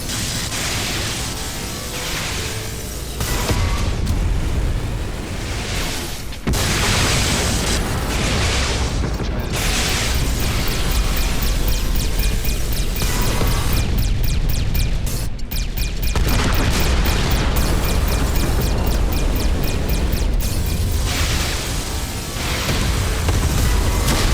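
Torpedo explosions in the space combat game Everspace 2 arrive as a dense run of loud, heavy booms and crashing bursts. They pile up continuously with brief gaps over a rumbling low-end roar, and a voice is faintly present.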